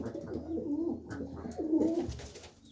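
Domestic pigeons coo softly from their coop in the evening, low rolling calls rising and falling over almost three seconds, fairly close and moderately quiet, with no voices.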